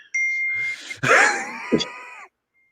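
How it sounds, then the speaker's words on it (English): A notification ding coming through a computer rings out clearly, a bright sustained tone followed by a second overlapping chime and a short blip, loud and close with nothing else around it. "it's a very clear, very crisp ding there"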